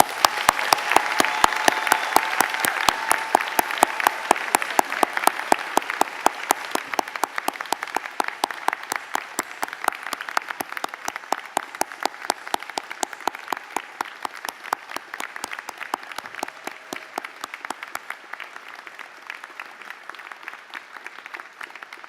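Graduates at a fall convocation for a faculty of management receive sustained applause from family, friends and staff, dense rapid clapping filling the hall at first and then slowly thinning and softening toward the end.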